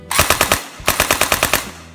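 SI JUN SJ81-2 foam dart blaster with a metal plate inside, firing in full auto: two rapid bursts of about five sharp clacking shots each, close and loud, separated by a brief pause.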